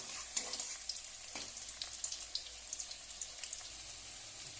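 Faint, steady sizzling of veg manchurian balls frying in oil, dotted with small irregular pops and light stirring sounds, with no voices over it.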